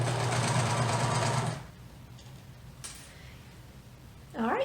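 A sewing machine stitches elastic in a loud, fast buzzing run that stops abruptly partway through, leaving quiet room noise, followed by a brief voice at the end.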